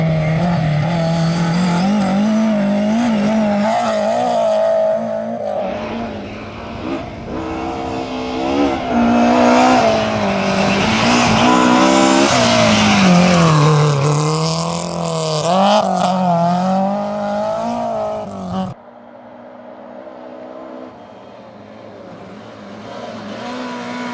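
BMW M3 rally car at speed on a stage of the Rally Liburna, engine loud and close with rising and falling revs through gear changes for about eighteen seconds, then cutting off abruptly to a quieter, more distant engine drone.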